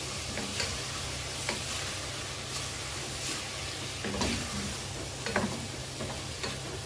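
A spoonful of butter sizzling in a cooking pan, a steady crackling hiss with occasional small pops and taps, close and fairly quiet, with no talking.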